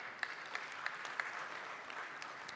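An audience at a Tanzania–European Union business forum gives a round of applause, a faint, steady wash of clapping with a few sharper claps standing out.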